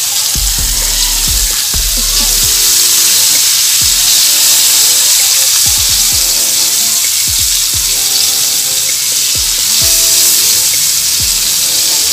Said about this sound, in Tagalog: Prito na po natin ang ating chicken neck.